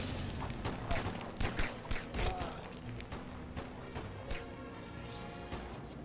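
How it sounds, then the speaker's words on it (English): Gunfire crackles through a Lego Batman video game level in a rapid run of sharp, punchy shots and crashes, with a voice faintly underneath. "There's a lot of shooting. There's so many shots being fired."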